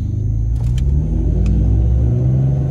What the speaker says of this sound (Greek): Ακούτε την εξάτμιση?